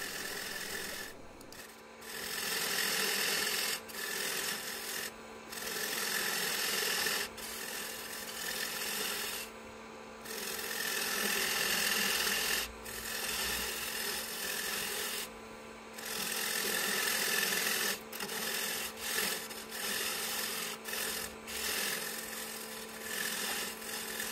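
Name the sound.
parting tool cutting chuck recess in wooden bowl on lathe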